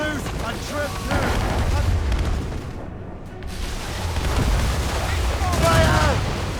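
Naval cannon broadside fire and explosions in Assassin's Creed Rogue: repeated deep booms and rumbling blasts over steady ship and sea noise, with shouted voices rising and falling between volleys.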